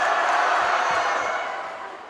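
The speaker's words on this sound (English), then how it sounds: "all of the Fairfield students, making noise, trying to distract her" A dense roar from a student crowd fills a gym at a women's college basketball game between Fairfield and Quinnipiac, loud and sustained as fans try to distract a free-throw shooter, easing slightly toward the end.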